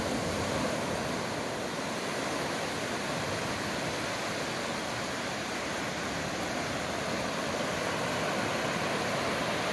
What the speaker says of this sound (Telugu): one of the white sand beach in the Asia